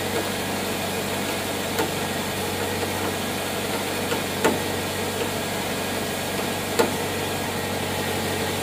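A car engine idles steadily at a low, even rumble, with a few faint clicks and knocks breaking through now and then.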